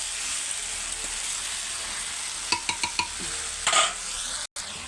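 Chicken tossed with spices in a pan for a Bengali chicken kosha, giving a steady sizzle with several sharp utensil clacks against the pan near the end. No one talks.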